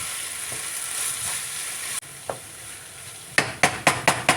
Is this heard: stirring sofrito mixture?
yes